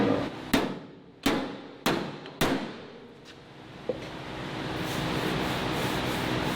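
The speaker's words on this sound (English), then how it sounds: "I'm hitting it with a hammer here to push this down" Five sharp, ringing hammer blows on a wrecker bed's metal at a steady pace, each decaying quickly, followed by a lighter tap and a rising mechanical rumble.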